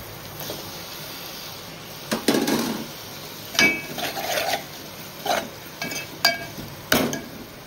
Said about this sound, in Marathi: आता आपण टोमॅटो टाकूया।